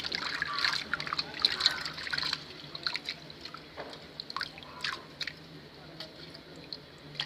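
Prawns are swished and rinsed by hand in a bowl of water, giving faint, irregular splashes, drips and squishy trickles close by.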